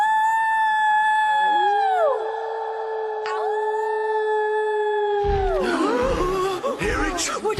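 A voice imitates a wolf, holding a long, loud, sliding howl close by, followed by a rougher burst of breathy roaring.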